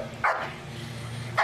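A dog gives two sharp barks about a second apart, loud and close, with a low steady hum beneath and no speech.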